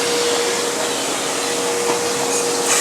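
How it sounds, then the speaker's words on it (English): A self-service car wash vacuum cleaning a Tesla's trunk, with a loud, steady, close-up suction roar that holds constant from start to finish. "Vacuum the trunk."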